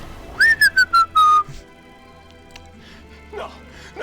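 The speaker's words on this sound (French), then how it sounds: "c'est partir en sifflotant une fois qu'on a pris une arme" A character in Detroit: Become Human whistles a short tune of about five clear notes after picking up a weapon, then a faint background ambience remains with some soft noises.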